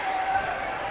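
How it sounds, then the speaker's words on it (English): A home crowd at a girls' high school basketball tournament game applauds as the horn sounds, making a steady wash of clapping heard from a distance in a gym. "And the applause from the Brave faithful."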